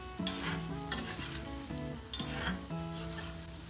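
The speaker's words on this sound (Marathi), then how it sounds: "गॅसची फ्लेम थोडी वाढवते आणि तळते." Wheat flour and jaggery gulgule deep frying in hot oil over a raised gas flame, a steady close sizzle with stirring and light scrapes, with soft music playing throughout.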